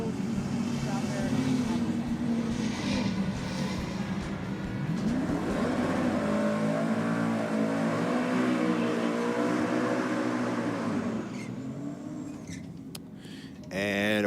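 A drag race car doing a burnout at Sydney Dragway, its engine roaring loud and sustained with revs climbing and falling before dropping off near the end, with voices faintly mixed in.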